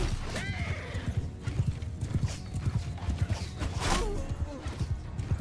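Horses gallop in a Mount and Blade Bannerlord battle, a dense, rapid drumming of hooves close and loud, with neighs rising over the pounding and faint voices in the mix.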